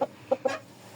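A young rooster gives three short clucks close by, quick sharp calls spaced apart, then quiet.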